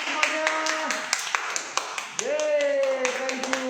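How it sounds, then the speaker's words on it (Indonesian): A few people clapping during a virtual round of applause at an online event, sparse sharp claps scattered under a person talking. "Tepuk tangan virtual yuk sekali lagi semuanya."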